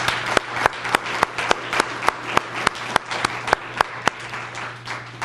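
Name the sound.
audience applause at a foundation reception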